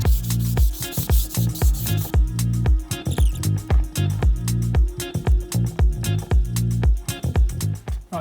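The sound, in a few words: hand sanding wood with 240 grit sandpaper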